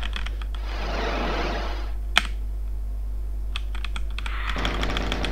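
Computer keyboard typing while playing Doom, quick clusters of clicking keys near and close, with a hissing noise swell early on and a steady low hum underneath.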